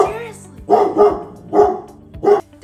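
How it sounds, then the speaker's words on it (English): A dog barks indoors in a home, several loud barks in an uneven run with short pauses between them, close to the listener. "Dog!"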